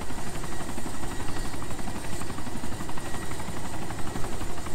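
Helicopter in the DayZ Epoch video game, its steady rotor thump and engine drone loud and continuous throughout, no speech over it.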